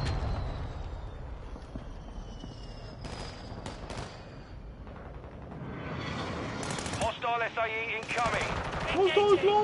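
Video game gunfire in an online shooter, bursts of rapid shots early on, then mechanical clatter and whirring as the action continues, with people talking over it.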